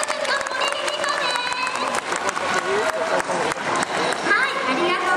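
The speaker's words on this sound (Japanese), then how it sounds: "皆さんナビコ君に大きな拍手お願いします" A crowd at a shopping-mall talk show for a baseball team claps loudly and continuously, with scattered cheers and a speaker's voice over the applause.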